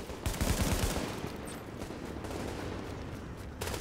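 Rapid automatic gunfire in The Division video game, a dense burst of loud shots in the first second followed by a sustained rattle of continuous fire and echoing reports.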